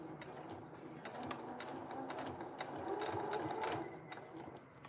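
Sewing machine stitching piping sandwiched between two fabric layers, a steady close whirring run with fine rapid needle ticks throughout, swelling slightly louder toward the end.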